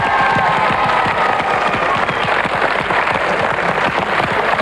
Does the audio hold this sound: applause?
yes